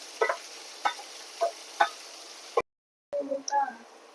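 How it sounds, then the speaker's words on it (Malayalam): Two or three chopped onions fry in a pan with a soft hiss, while a spoon scrapes and knocks against the metal in a slow, regular rhythm, then stops briefly before the stirring resumes. "സവോള ഒരു 2-3 സവോള അരിഞ്ഞത് നമ്മൾ അതിലേക്ക് ഇട്ട് നന്നായി ഫ്രൈ ചെയ്യാം"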